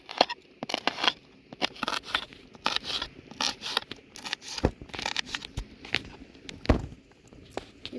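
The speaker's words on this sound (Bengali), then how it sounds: "এরপর লঙ্কা দুটোকে কুচিয়ে নেব" A knife chops one green and one ripe red chilli on a board, a steady series of short sharp taps and crunchy cuts close by, with no talking.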